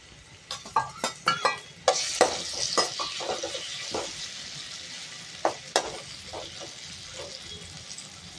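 Cut pineapple dropped into a hot pan for a Kerala-style jackfruit payasam crackles and sizzles, with a run of sharp spatters and scraping stirs of a spoon against the pan near the start, then a softer steady frying hiss.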